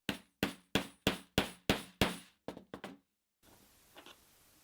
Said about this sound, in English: we're going to hit it with the hammer a couple of times